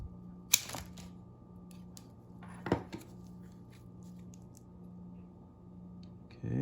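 Pruning shears snipping a branch on a small potted lemon tree: two crisp, close cuts a couple of seconds apart in an otherwise quiet room, with faint handling noise between them and no talk.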